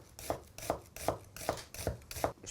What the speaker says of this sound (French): Je récupère mon oignon que je vais venir émincer finement,